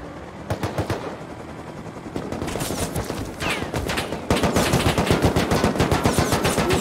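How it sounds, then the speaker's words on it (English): Sustained gunfire in the Rust video game, rapid automatic bursts that grow denser and louder, ending in a continuous rattling stream of shots with no talking. "someone else is being shot at"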